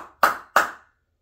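Two sharp hand slaps from a Wing Chun slapping drill, struck on the practitioner's own body about a third of a second apart, close and crisp, each ringing out briefly before fading with no talk.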